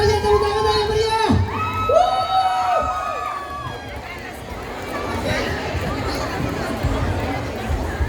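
A school crowd at a National Education Day event in Wajo cheers and shouts, with children's voices and babble rising after a sung or spoken harmonic voice in the opening seconds, a dense steady roar lasting throughout.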